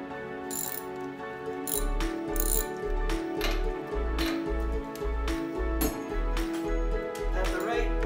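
A socket ratchet clicks in quick, regular bursts as a spark plug is loosened on a Troy-Bilt lawnmower engine, close and crisp, repeating in steady strokes with a brief voice partway through.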